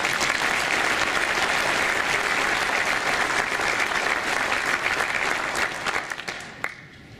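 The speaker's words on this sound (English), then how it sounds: "let's give all of the project teams another round of applause" A loud, dense round of audience applause for the project teams at the 136th CAM annual meeting, many hands clapping steadily before the sound thins and fades toward the end.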